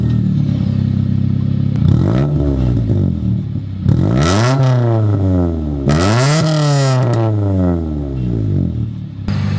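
A Honda Civic engine revs hard three times, each rev rising and falling in pitch with a raspy, clattery exhaust note, loud and close, between rougher idle.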